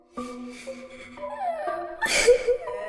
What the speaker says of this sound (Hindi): वो रोने की आवाज मुझे बगल वाले कमरे से आ रही थी।